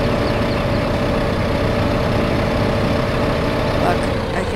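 A tractor engine in the Farming Simulator video game drones steadily and loudly at a constant idle-like pitch, with no change throughout.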